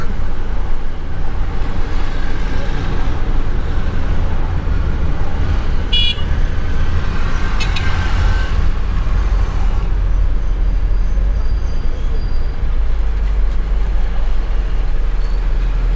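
Car driving through busy traffic in Kubwa town, a satellite town in West Africa, with a constant loud road and engine rumble, passing vehicles and a couple of faint horn toots in the background.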